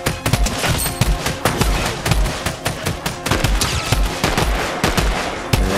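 Rapid automatic gunfire cracks out in a Fortnite Zero-Build duos match. Loud, close shots come in quick repeated bursts with short gaps, while a sniper fires from a hill.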